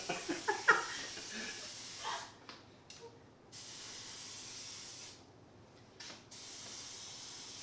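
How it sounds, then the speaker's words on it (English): An aerosol spray can running low sprays food in a home kitchen, giving bursts of weak hiss broken by short gaps. Several sharp clicks come first, and no one speaks. "I guess my spray is a little running low, so that's why it's taking me a while to spray this."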